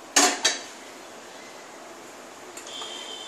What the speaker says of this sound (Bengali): এবারে আলু ফুলকপি সব দিয়ে দিচ্ছি, ভালো করে ঘেঁটে দিতে হবে।